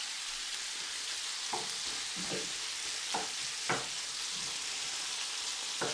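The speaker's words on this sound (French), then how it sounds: "Je vais cuire ça tranquillement jusqu'à coloration." Veal pieces seasoned with salt and pepper browning gently in a pan, a steady soft sizzle with a few brief stirring clicks and scrapes, moderately quiet and without talk.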